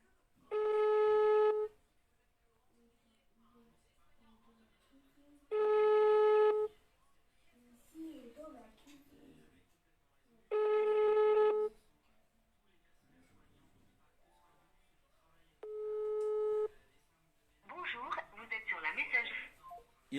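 A French phone call rings out in four evenly spaced ringback tones before reaching voicemail, with faint background noise between rings and a voice near the end.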